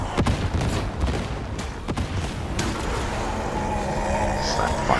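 Sniper gunfire in Warhammer 40K: Darktide, with a few sharp shots early on over a loud, dense wash of game combat noise and rumble.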